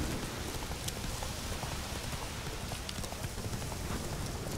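A horse in The Witcher 3 galloping, its hooves drumming in a dense, steady stream under a wash of rain-like noise, with no voices.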